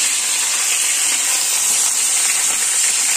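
Cauliflower florets fry in hot oil in a pan for a sour amra dish, giving a steady, even, close sizzle with no pauses and no talking.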